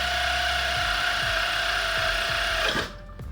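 A power tool whirs steadily as it runs down brake bolts on a 2002 GMC Envoy during a rotor and pad install, loud and close, with a faint rhythmic knocking, then cutting off abruptly near the end.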